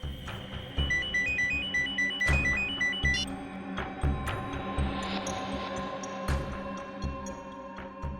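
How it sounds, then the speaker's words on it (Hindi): A mobile phone ringtone plays a repeating electronic melody as an incoming call arrives indoors in a TV crime drama scene, ringing clearly over faint background music. "उसी का फोन है। काम्या, डरो मत, फोन उठा।"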